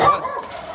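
A pitbull giving a single short, loud bark up close, trailing into a brief whining tail.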